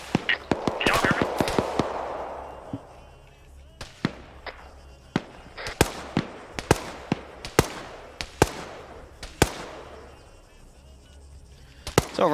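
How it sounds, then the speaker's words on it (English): Scattered sharp gunshot cracks in Arma 3, some single and some in quick pairs, popping irregularly over a low background hum with a faint voice at times. "we're going to constantly be hearing gunshots."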